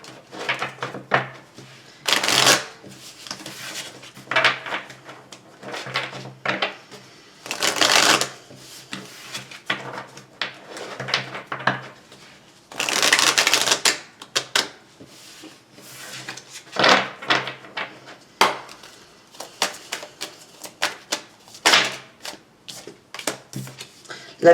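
Tarot cards are shuffled for a reading, heard up close as repeated crisp riffling bursts and soft papery slides in an uneven rhythm, with short pauses between shuffles and no voices.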